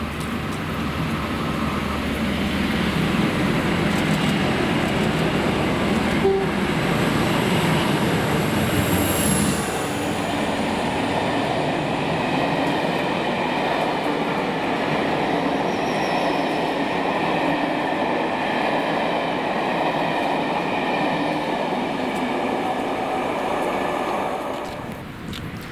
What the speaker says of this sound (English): working 1Z60, the 1231 Inverness to Rugby with 47805 leading